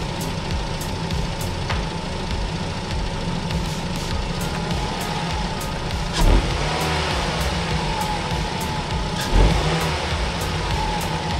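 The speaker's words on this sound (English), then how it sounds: "let me rev the engine a little bit" Petrol engine of a 2010 Mazda 6 (GH) running steadily with a continuous hum, rising in two brief revs near the middle and later, close and fairly loud with no voices.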